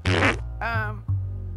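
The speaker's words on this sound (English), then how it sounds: "It is busy farting." A fart sound effect played back, a few loud buzzing, sputtering blasts in quick succession, close and alone.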